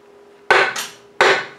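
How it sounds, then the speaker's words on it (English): Two sharp hammer blows ring out against the front housing of a Frazer B1-7 rototiller during disassembly, spaced about 0.7 seconds apart, each a loud metallic strike with a short decaying ring, no talking. "you can remove the front housing now just by hammering on it"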